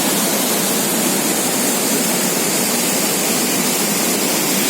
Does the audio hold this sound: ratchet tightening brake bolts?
no